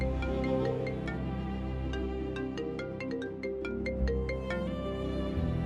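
A phone ringtone for an incoming call plays continuously for several seconds, a melodic electronic tune of repeating bright notes over a steady backdrop.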